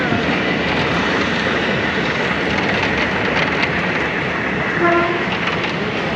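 A train roars past without slowing, a loud, steady rumble of wheels and carriages with a brief horn tone near the end.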